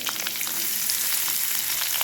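Finely chopped onion sizzles in hot tempering oil with garlic and green chillies for a moong dal curry, a steady, dense crackling hiss with no one speaking.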